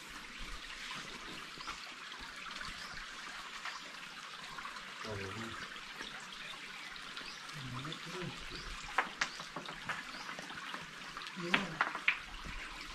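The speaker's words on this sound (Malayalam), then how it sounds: "നല്ല കാടിന്റെ മേലെ നിന്ന് വരുന്ന നല്ല അരുവി കേട്ടോ." A clear forest stream flowing down from the jungle near a cave in Nilambur gives a steady rushing, trickling wash of water, with a few sharper splashes toward the end.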